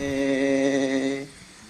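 A small retro radio speaker plays a sustained, rich musical note that cuts off abruptly, leaving a faint hiss.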